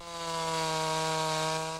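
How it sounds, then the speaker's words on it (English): A chainsaw cuts storm-damaged trees after a tornado in Salt Lake City, its engine droning steadily and loudly under load, close by, with no talk. "Chainsaws are sounds of comfort to those whose yards are full of old trees"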